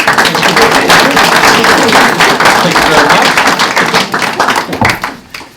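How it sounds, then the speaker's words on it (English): Round of applause from an audience at a state Senate bill hearing on zoning laws, dense steady clapping that tapers off near the end, with a brief spoken thanks over it. "I'd like to offer a round of applause"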